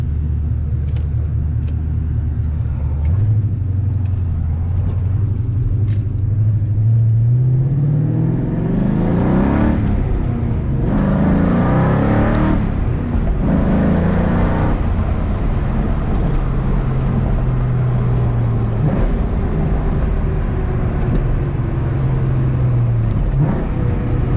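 A cammed 4.6-liter Ford Mustang GT engine idles with a lumpy rumble, then accelerates hard through rising revs and gear changes, loud and close from the cabin.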